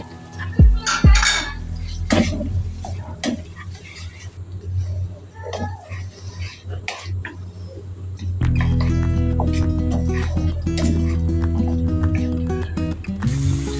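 Bitter gourd dropped into a pan of cooked-down tomato and stirred, with clattering metal spoon knocks against the pan, then a louder steady frying sizzle under the scraping.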